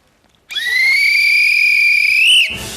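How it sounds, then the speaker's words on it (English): A single long, loud referee-style whistle blast starting a yoghurt-eating game on a comedy quiz show, steady and piercing for about two seconds before cutting off, with no voices over it. "Sue, you will go on my first whistle"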